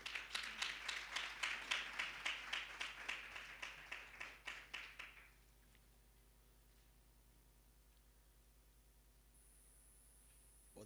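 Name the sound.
audience applause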